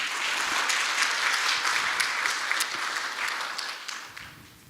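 A talk-concert audience claps together in a sustained burst of applause, fairly even and moderately loud, then fades out over the final second.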